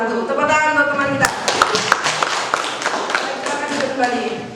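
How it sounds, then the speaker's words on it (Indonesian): Classmates in a school classroom give a round of clapping for a group after its presentation, with scattered claps rising over steady talk and voices throughout. "Tepuk tangan untuk teman kita."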